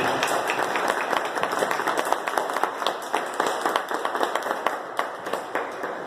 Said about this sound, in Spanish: pido el primer aplauso